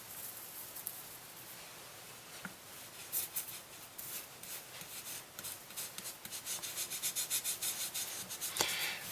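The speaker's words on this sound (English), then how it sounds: "you just rub it and this piece will just rub away and it leaves an absolutely tight joint" Gold leaf is rubbed by hand onto a wooden clock dial face, a faint, close, dry brushing and scraping that grows into quicker rhythmic strokes toward the end.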